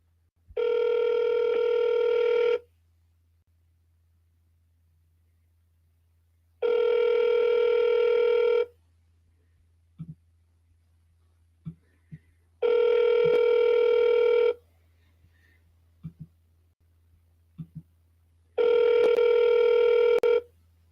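Telephone tone repeating four times in long, steady bursts separated by pauses of quiet line hiss with faint clicks, heard on a redialed call with no voices.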